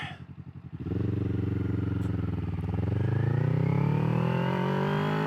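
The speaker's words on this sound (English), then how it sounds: "I actually love the way this engine sounds through that Austin racing pipe" A 2021 Kawasaki Ninja 400 motorcycle engine chugs at idle, then pulls away and revs up through a deep, throaty Austin Racing aftermarket exhaust, steady and close with a rising tone.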